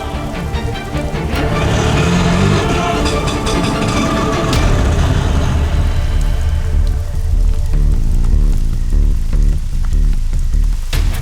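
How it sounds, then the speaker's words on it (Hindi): Heavy rain pours steadily onto surfaces outdoors, a loud, dense hiss that continues throughout, with a low engine-like rumble underneath for the first few seconds. "बारिश में भीगिए मत, अंदर आ जाइए।"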